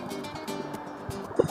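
Water poured into a container on a laboratory scale while preparing an oedometer test sample, heard as a quiet, close trickle with faint drips and a brief small splash near the end.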